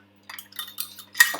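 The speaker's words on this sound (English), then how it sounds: "I just want it to give it a bit of a stir." Cheesecake mixture stirred in a bowl, heard as a few soft, close scraping and tapping strokes of a utensil against the bowl, irregular and quiet, with a louder clink near the end.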